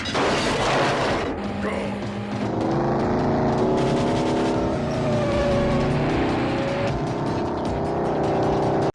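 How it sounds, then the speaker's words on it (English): Car chase from the 1986 Sylvester Stallone movie Cobra: roaring engines and revving cars with loud booming impacts and screeching, dense and continuous, mixed with film score and effects. "I love the car chases"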